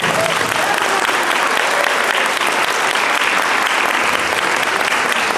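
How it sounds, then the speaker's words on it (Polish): An audience at a makeup championship event in Olsztyn applauds, a loud, sustained wash of many hands clapping close up with no break and no talk over it. "Prosimy o oklaski."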